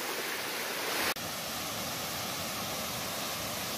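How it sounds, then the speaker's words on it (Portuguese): A large waterfall in Bom Jardim pours with a constant, dense rushing roar, steady throughout with one brief dropout. "é um vídeo de cachoeira. E uma mega, mega cachoeira."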